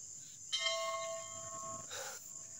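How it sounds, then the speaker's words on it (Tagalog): A monastery bell at Simala rings at 6 p.m., a clear sustained metallic tone with steady overtones that starts sharply and keeps humming for about two seconds. No one speaks over it. "Timer gid kayo may pag-ring sa bell sa 6 p.m. mo."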